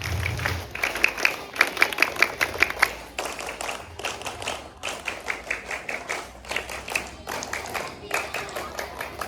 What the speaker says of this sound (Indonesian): Sebelumnya tepuk Pramuka.